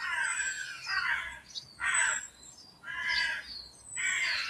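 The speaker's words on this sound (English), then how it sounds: "The jackdaws nest in this tower here. The rooks are nesting in the trees at the front of the house" Rooks and jackdaws call around a house with a tower and trees, four harsh caws at regular intervals, fairly close, with faint higher chirps from other birds behind and no talk.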